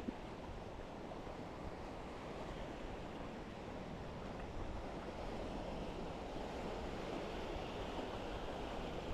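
Strong storm wind buffeting the microphone over crashing sea waves near Calatagan, Batangas, a constant dense roar with no voices heard.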